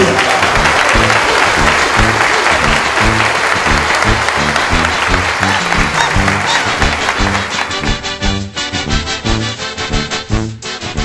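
A crowd at a patron saint festival in La Libertad, Chontales, applauds loudly and steadily, with the clapping thinning out toward the end.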